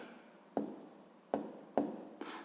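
A pen writing fractions by hand on paper during a sixth-grade math exercise, four short separate scratching strokes, each starting with a tap and fading, close and quiet with no voices.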